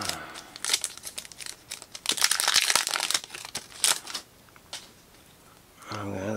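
A foil pack of football trading cards is torn open in one long rip. Crisp crinkling and tearing bursts come close up, fade into softer rustles, and a voice follows at the end.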